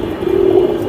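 A large flying pigeon gives a short, close, low coo that rises into a steady hum and fades within a second.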